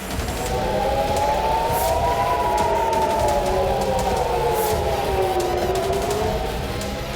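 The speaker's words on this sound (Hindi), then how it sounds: "तेल अवीव में air red alert siren activate हुए।" A wailing air raid siren in Tel Aviv rises and falls in long slow sweeps, loud and steady throughout, with distant background noise beneath it.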